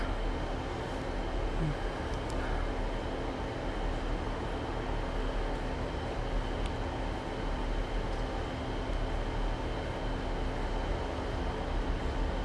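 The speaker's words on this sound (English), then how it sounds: "coming in now will be a South Western Railway service to Exeter St David's" South Western Railway diesel multiple unit, a Class 159 double set, arriving at Exeter Central station, a continuous broad engine and rail rumble with a steady low hum, loud and close throughout with no pauses.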